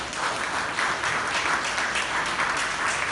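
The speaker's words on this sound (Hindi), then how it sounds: "तो आप उनके लिए एक ताली बजाएं।" Sustained audience applause at a health talk in Bengaluru, a dense steady patter of many hands clapping together without letting up, fairly close and full.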